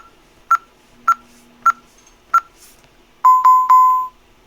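An Ademco Vista Safewatch alarm keypad gives four short, evenly spaced button beeps as a master code is entered to arm it, then three longer, louder confirmation tones in quick succession.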